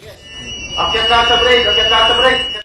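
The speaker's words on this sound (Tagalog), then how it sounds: "habang umaalingaw-ngaw ang alarm sa loob ng MV Tutor" A steady, high-pitched alarm rings inside the cargo ship MV Tutor, damaged in an attack in the Red Sea, sounding continuously while a voice talks over it.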